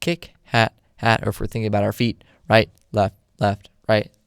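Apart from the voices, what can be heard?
None of the usual background noises is heard.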